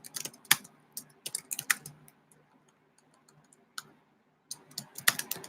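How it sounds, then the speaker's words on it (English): Quick bursts of keystrokes clatter on a computer keyboard, close and crisp, with a pause in the middle before another flurry of clicks. "Let me type that in."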